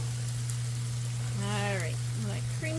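Food sizzles on a Blackstone griddle on high heat while pasta and mushrooms are mixed, a steady crackling hiss with a low burner hum beneath, and a voice talking over it.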